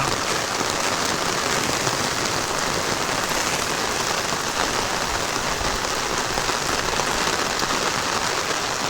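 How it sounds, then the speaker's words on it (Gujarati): Torrential rain pouring over a waterlogged farm field, a loud unbroken wash of drops hammering the ground for the whole stretch, with no voices. "આ વરસાદ છે આજે જોરદાર"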